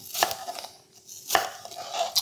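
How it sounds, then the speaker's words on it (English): A Henckels knife cuts through a Fuji apple on a board, a few sharp, crisp chops spaced unevenly with quiet gaps between them, close and clear with no talking. "you can just cut some apple slices for a healthy snack"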